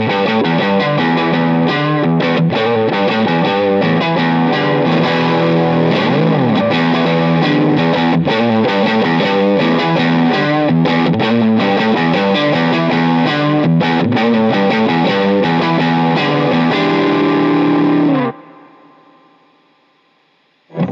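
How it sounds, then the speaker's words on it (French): Electric guitar played through a Fairfield compressor stacked over an overdrive with a touch of reverb, sustained distorted chords and riffs ringing loudly for about eighteen seconds before cutting off into a fading reverb tail. "vous laisser entendre les différentes couleurs que chaque compresseur peut apporter par-dessus un overdrive"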